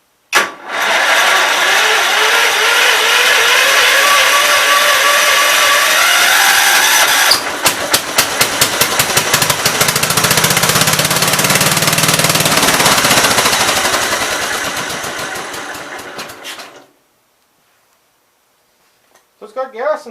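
A Gravely K361 tractor fitted with a swapped engine cranks and catches, running roughly and loudly with a rapid chattering pulse for several seconds before dying to silence, with brief talk near the end.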